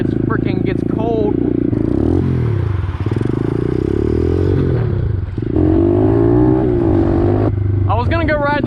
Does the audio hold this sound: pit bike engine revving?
yes